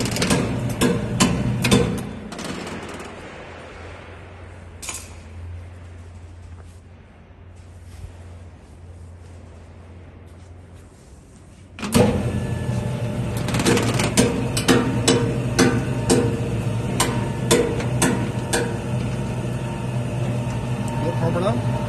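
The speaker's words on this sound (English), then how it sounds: "the raw material would be transferred via this hopper wire screw into the" Screw conveyor feeding raw dry mortar material from a hopper into a 1500L paddle mixer, a steady mechanical rumble with repeated clanks and ticks that grows louder and denser partway through, heard alone without talk.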